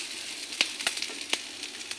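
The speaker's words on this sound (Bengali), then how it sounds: "আমি গ্যাসটা একদম কমিয়ে ভাজা করেছি।" Fish roe and eggplant crumble sizzles softly in a pan over low gas, with a steady faint crackle broken by a few sharper pops and stirring scrapes.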